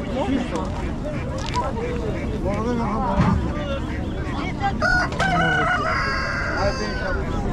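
Chickens and roosters at a Sunday bazaar in Khomam, Gilan, northern Iran, with crowing and clucking mixed into a busy market din, while people talk and bargain throughout.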